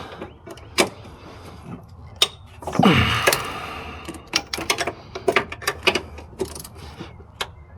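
Ratchet with 14 mm sockets tightening bolts on a Honda Element, giving scattered sharp clicks and short mechanical rattles, with one longer grinding burst partway through, fairly close and with no talk.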